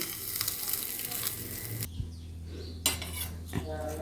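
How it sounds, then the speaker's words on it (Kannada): Hot oil crackles and sizzles as spices are added for tempering Mangalore cucumber chutney, with metal utensils clinking against a pan several times. "ಇವಾಗ ಒಂದು ಒಗ್ಗರಣೆ ಹಾಕ್ತಾ ಇದ್ದೀನಿ"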